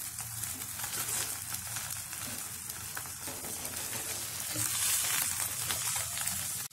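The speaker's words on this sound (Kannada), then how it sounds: "ಇನ್ನ ಬ್ರೆಡ್ ಕೂಡ ಬೆಣ್ಣೆ ಇಟ್ಬಿಟ್ಟು ಅದನ್ನು ಸ್ವಲ್ಪ ಫ್ರೈ ಮಾಡ್ಕೊಳ್ತಾ ಇದ್ದೀನಿ." A bread slice fries in butter for a bread omelette, with a steady, dense sizzle close by that swells a little toward the end and stops abruptly.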